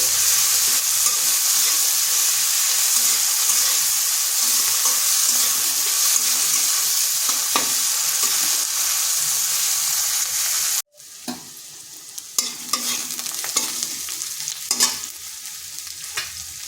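Chopped onion frying lightly in a pan, a constant loud sizzle with occasional stirring scrapes; after a sudden break the sizzle returns quieter, with sharper clinks and scrapes as the pieces are moved around.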